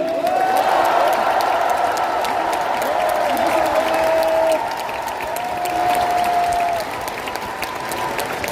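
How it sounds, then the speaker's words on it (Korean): Steady, warm applause from a large audience at a Korean political party rally for two candidates. Dense clapping with some cheering, holding loud then easing slightly partway through, with no speech over it. "우리 두 분 후보님께 뜨거운 격려의 박수를 부탁드립니다"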